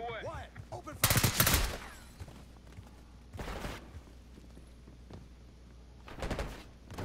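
Gunfire in the video game Call of Duty Black Ops 6 comes in three short, sharp bursts, the first the loudest, with quieter game noise and faint voices in between.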